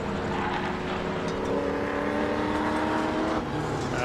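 A race car entering the pits at Donington Park during a tin-top race, its engine a loud, continuous droning roar with a steady hum and broad road and track noise, no voices over it.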